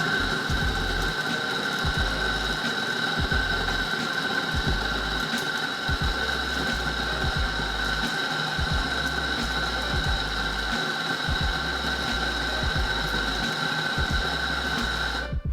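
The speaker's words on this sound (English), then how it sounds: "let's tar the portafilter and see how long it takes to grind 20 grams" A Rocket Espresso Faustino 3.1 coffee grinder grinds beans into a tared portafilter, giving a steady whining motor hum with a rapid rhythmic low chatter, loud and close for about fifteen seconds before stopping.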